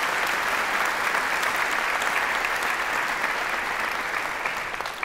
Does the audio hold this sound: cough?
no